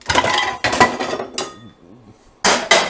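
A pan is pulled out among other cookware, with several loud metallic clanks and clatters in quick bursts separated by short pauses, then a final pair of sharp knocks.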